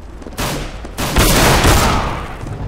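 Glock burst-fire gunshots in Counter-Strike: Global Offensive, loud, dense overlapping shots and echoing reports filling the clip, with no talk.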